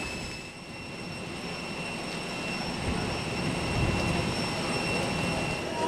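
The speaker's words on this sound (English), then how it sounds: "Well, here we are in Nîmes Airport" Steady broadband rumble of aircraft noise at Nîmes Airport in France, a continuous even hum with faint high whining tones and no voices.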